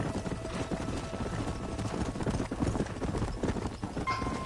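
Horse hooves clip-clop at a steady walking pace in the Red Dead Redemption video game, with a busy layer of ambient game sound underneath and a faint whinny-like tone near the end.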